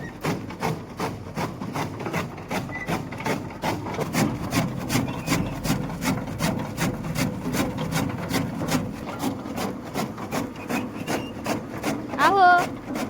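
A chaff cutter chops fodder for livestock in a village at evening, its rapid, regular chopping strokes repeating steadily at close range, with a brief bird call near the end.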